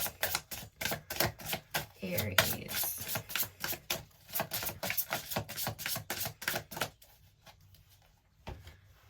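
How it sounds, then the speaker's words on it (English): Rapid riffling and snapping of cards being shuffled, repeated bursts close by for several seconds, then trailing off with a few last flicks; a voice speaks briefly. "Several different kinds of shuffles to get it all mixed in."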